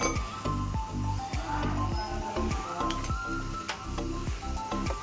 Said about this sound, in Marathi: तर आता मी टाकलेलं आहे पाणी त्यामध्ये गरम